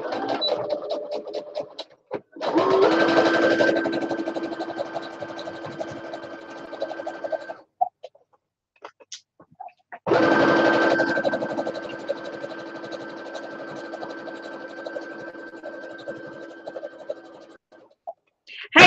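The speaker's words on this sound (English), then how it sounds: "Back stitch these corners because it needs to hold up." A sewing machine back stitches the corners of a no-pattern apron in two sustained runs, with a short pause between them, broken only by faint handling clicks.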